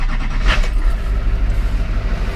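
Duramax diesel pickup truck engine cranking and catching after the glow plugs warm, then settling into a close, loud, rumbling idle for a couple of seconds with no talking.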